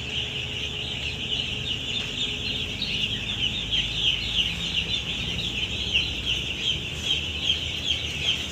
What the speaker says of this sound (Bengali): আজকে মুরগি এখানে ছেড়ে দিব